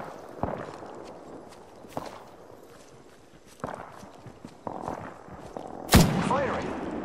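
Gunfire in the video game Apex Legends: several scattered sharp shots, the loudest near the end, mixed with footsteps, movement clatter and voice callouts.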